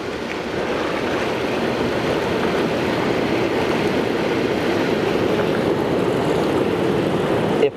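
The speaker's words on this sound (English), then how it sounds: "Can turn some air controls on here, so you can see what it looks like when it's going." Air jets running in a Fisher swim spa with three pumps, a steady loud churning, bubbling roar of agitated water that holds constant throughout, with no voices over it.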